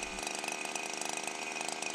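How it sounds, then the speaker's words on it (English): Two-stroke weed eater engine idling during carburetor adjustment, a steady rapid buzzing putter with a fast mechanical rhythm, close and fairly quiet, no talking. "If we've got a situation where the engine is idling like this, that's obviously not running at its best"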